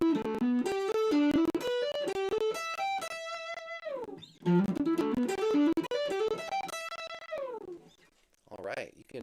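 Electric guitar plays a blues pattern using hammer-ons on every note, a quick run of legato phrases rising and falling in two passes, up close and fairly loud, with a brief pause and a short spoken bit near the end.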